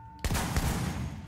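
Double-barrel shotgun fire in The Division video game: a sudden loud blast followed by a dense, roaring crackle of shots and impacts that sustains without a break, heard alone with no talk.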